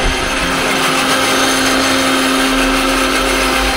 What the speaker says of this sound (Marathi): हे असं ज्यूस मारायला मिक्सर आहे